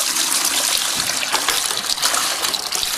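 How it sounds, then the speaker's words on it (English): Water gushes steadily into a mixing bucket for rapid-set tile mortar, a loud, close, continuous splashing pour with no voices. "Water into my mixing bucket."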